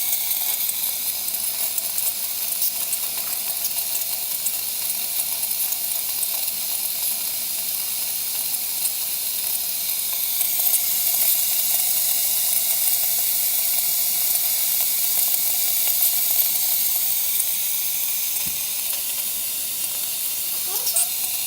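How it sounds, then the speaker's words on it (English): A Breville Oracle BES980XL espresso machine's steam wand hisses steadily and loudly for a long stretch while steam runs through it to clean it out. "now that we ran some steam through it to clean it out"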